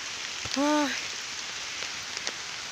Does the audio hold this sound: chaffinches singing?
no